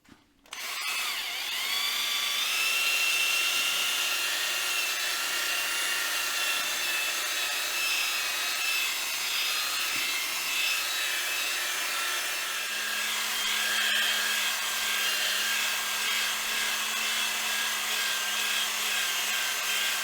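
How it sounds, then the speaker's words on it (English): A drill spinning a mandrel buffs mild abrasive into a lacquer finish, a steady high whirring drone with a soft rubbing rasp, starting abruptly after a moment of quiet and running unbroken to the end. "use this in a drill on a mandrel just to work this in, and it will cut back"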